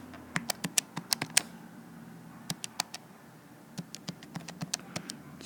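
Numbers tapped into a calculator, a burst of crisp quick key clicks, a pause, then a few more scattered taps and another run of steady presses, close and fairly quiet.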